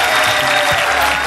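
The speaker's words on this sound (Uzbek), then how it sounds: "Olqishlab" A studio audience applauding, with dense, sustained clapping from many hands, loud and close throughout the short stretch, with no talking over it.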